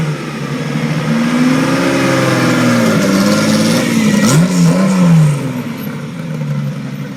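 A 1962 Ferrari 250 GTO engine revs close and loud, its tone swelling and dipping through several throttle blips before settling into a steadier idle-like drone.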